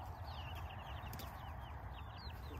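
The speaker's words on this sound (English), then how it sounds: "Look at this little chicken on here." Chickens cluck faintly among a flock of chickens and ducks outdoors, soft repeated calls scattered over a steady low background noise, with no talk.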